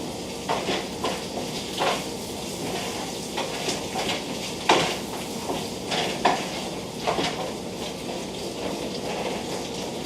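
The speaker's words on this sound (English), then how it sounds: "Stir until they're tender and have released their liquid, about 10 minutes." Mushrooms cook in a pan while a utensil stirs and scrapes, giving irregular clinks and scrapes over a soft, steady sizzle.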